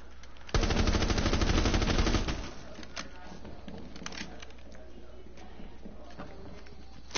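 Rapid automatic gunfire bursts loudly for about two seconds in the video game Siege, followed by scattered shots and game noise at lower level.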